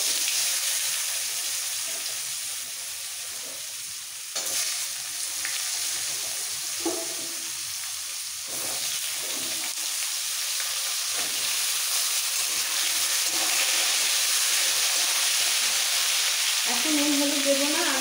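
Potato, papaya and pointed gourd dropped into hot oil with fried spices sizzle loudly and steadily, a close hiss broken now and then by stirring.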